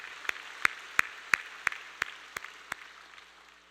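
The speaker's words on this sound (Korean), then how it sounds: "우리 하나님께 영광의 박수 올려드리겠습니다." About nine sharp, evenly spaced claps ring out alone in a quiet church, fading slightly toward the end.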